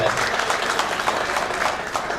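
An audience at a Gor Banjara gathering in Thane claps in a dense, steady burst of applause, a crowd-wide patter close and fairly loud for a couple of seconds.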